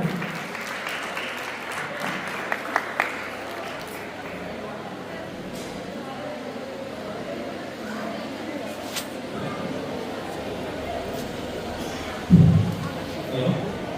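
An audience at a youth awareness seminar for Swami Vivekananda's birth anniversary gives steady, fairly soft applause welcoming a speaker, continuing for several seconds with a brief bump near the end.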